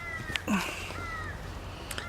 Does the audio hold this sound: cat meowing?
yes